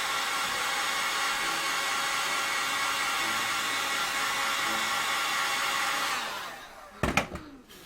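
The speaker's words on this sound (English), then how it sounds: "when you hit it with a heat gun, those will open up and create some cool little details" A heat gun blows steadily while heating a scored foam helmet, a loud continuous rushing hiss that runs unbroken for about six seconds, then cuts off and leaves a few sharp handling knocks.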